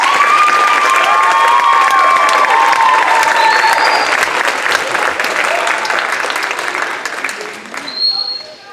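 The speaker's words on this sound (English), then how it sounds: "Can we give her a round of applause, please?" Audience applause fills a school symphony orchestra's winter concert hall, a dense steady clatter of many hands with a few whoops, fading toward the end.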